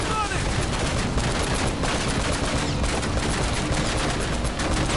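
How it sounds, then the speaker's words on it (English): Gunfire in the video game Uncharted: Drake's Fortune: a dense, loud, nearly continuous barrage of rapid shots and bursts that lasts the whole stretch with no real pause. "I'm shooting all in the window"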